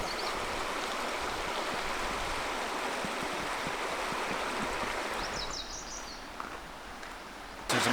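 Creek water flows in a steady broadband rush, close and continuous, easing slightly near the end as a faint bird chirp appears.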